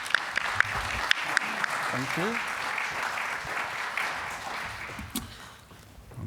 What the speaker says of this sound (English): Round of applause for our second team.